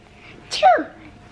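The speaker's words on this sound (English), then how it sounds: "No, I'm sneezing." A single sharp sneeze bursts out close by, brief and loud against a quiet room.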